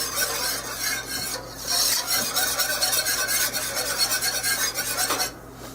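A spoon scrapes and stirs beef stew meat browning in a pot, a steady close rasping with faint sizzle, continuous for several seconds before stopping near the end.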